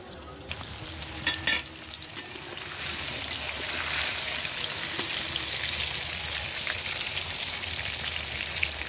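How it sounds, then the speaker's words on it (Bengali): Potatoes fry in a pan over a cooking fire, a steady loud sizzle that builds after a few early clinks and scrapes, continuing evenly with no talking. "আলু ভাজা হচ্ছে"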